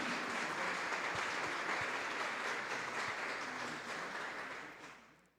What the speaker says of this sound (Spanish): Un aplauso para todos nuestros catequistas de la nación mexicana